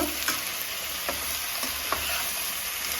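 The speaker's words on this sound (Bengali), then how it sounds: "সবজিগুলো কেটে রেখেছিলাম ওগুলো দিয়ে দেবো শাকটা এখন দেবো না এটা আমি এবার নেড়ে নেব" Vegetables and a fish head frying together in a pan for a pumpkin-leaf dish, with a steady close sizzle and a few soft scraping strokes from stirring, no talking.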